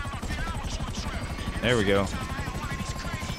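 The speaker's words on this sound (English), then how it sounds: "it's a helicopter." A helicopter in the video game GTA V whirs with a steady rapid rotor chop throughout, while a voice briefly speaks over it near the middle.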